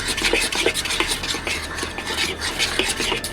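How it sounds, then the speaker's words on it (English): Eggs being stirred into pumpkin chocolate chip muffin batter, with a utensil scraping and rubbing steadily around the bowl in quick, repeated strokes, close and fairly loud, with no talking. "you're going to give it a little stir until they look well blended"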